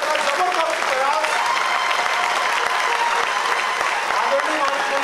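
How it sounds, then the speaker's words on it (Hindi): A large audience applauds continuously and loudly at a launch of two books, a dense, unbroken wash of clapping from a crowded hall. "लोगों से आग्रह है कि लोकार्पण तक सतत तालियां बजनी चाहिए।"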